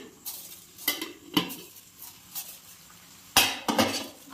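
A spoon stirs kulfi mixture in a metal pot on a home stove, giving irregular clinks and scrapes against the pot, some sharp and close, with quiet gaps between strokes.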